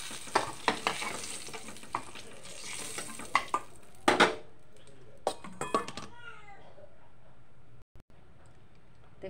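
Eggplant pieces fry in hot oil in a pan, a close steady sizzle broken by loud spatula scrapes and clatters that fade toward quieter crackling near the end.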